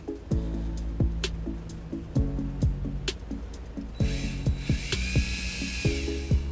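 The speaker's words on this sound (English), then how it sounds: "I'll drill a little 1/4-inch hole through the flood plug" A drill bores a quarter-inch hole through the flood plug of a 2007 Toyota RAV4 during trailer wiring installation, with steady rhythmic clicking pulses and a harsher, brighter whine that builds over the last couple of seconds.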